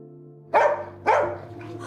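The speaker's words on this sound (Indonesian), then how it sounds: "terus menggonggong seakan ingin keluar" A dog barks twice, loud and close, with a steady low hum running underneath and no talk.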